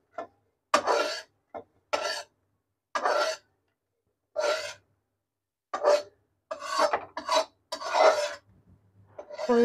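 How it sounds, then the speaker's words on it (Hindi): Khoya rubbed against a metal grater in short separate rasping strokes, about a dozen scrapes with pauses between them, close and fairly loud, with no talk. "खोए को भी कद्दूकस में घिस लेते इसको, ताकि फ्राई करने में आसानी रहे।"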